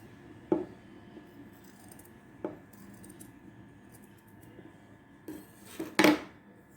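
Scissors cutting a fabric piece for a blouse latkan, heard as a few sparse, quiet snips spaced apart, with a louder, brighter crisp cut near the end against a quiet room.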